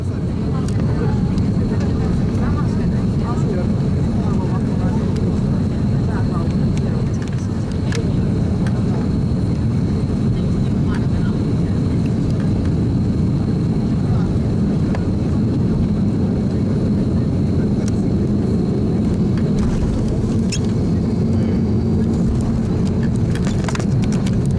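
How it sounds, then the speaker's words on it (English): A passenger airliner touches down at Helsinki Airport, heard from inside the cabin as a loud, steady low roar of engines and rolling, with faint rattles and a few voices. "we landed at Helsinki Airport"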